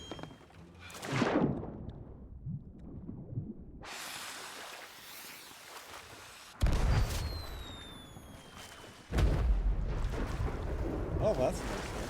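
Fireworks burst in an online pirate-themed video game by the shoreline, a rushing whoosh followed by sharp booming explosions and crackling decay, loud and close, repeating a few times in uneven succession.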